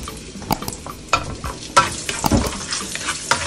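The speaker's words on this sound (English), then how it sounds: "I've already put olive oil into this pan, and it's quite hot now. So first thing I do is browning off my garlic." Garlic browning in hot olive oil in a pan, with a steady sizzle under scattered stirring scrapes and clicks, close up and moderately loud, no talking.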